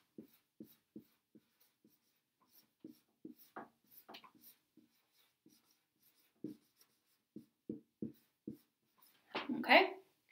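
Chemical formula symbols are written by hand, giving a string of faint, close scratchy pen strokes in short irregular bursts, with a louder scribble at the end.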